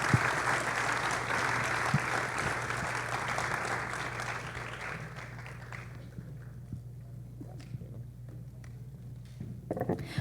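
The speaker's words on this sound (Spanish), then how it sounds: "le demos un fuerte aplauso a nuestros panelistas" An audience at a Colombian conference on infrastructure for LNG imports gives the panelists a round of applause, a steady wash of clapping over a low hum that thins out and fades toward the end, leaving scattered claps.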